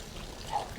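A riverside water feature at night runs with a soft continuous pour and trickle, steady and fairly close, with a faint splash partway through.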